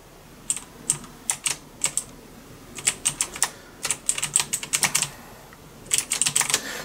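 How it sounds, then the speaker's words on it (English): Gibberish gaming-style typing on a mechanical keyboard with brown switches, heard as close, clicky bursts of rapid keystrokes in clustered flurries separated by short pauses, with no talking. "And if we were gaming, it would sound kind of like this."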